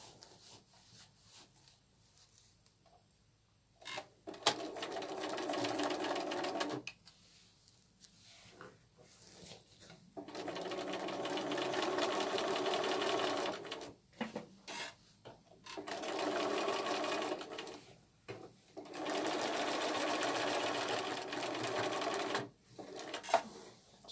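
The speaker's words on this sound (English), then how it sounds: "now we're going to stitch along the sides" Sewing machine stitching along the sides of a layered craft piece, several separate bursts of rapid mechanical stitching at close range, each a few seconds long, with quiet pauses between them.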